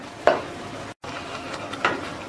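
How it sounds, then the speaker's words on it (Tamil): Two quick scraping strokes of a spoon stirring thick mango pulp boiling in a pan for jam, with a brief cut between them and soft bubbling underneath. "தூரில் பிடிச்சிடாம கொஞ்சம் கிண்டிக்கிட்டே இருங்க"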